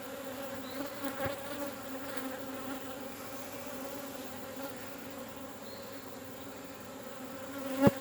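Honeybees around a hive comb on a farm make a faint, steady buzzing drone that continues throughout, with a brief knock near the end.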